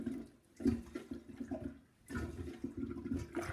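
Water being removed from a toilet bowl during a toilet replacement, heard as irregular splashing, sloshing and gurgling in two bursts with a brief lull between, fairly close and moderately loud.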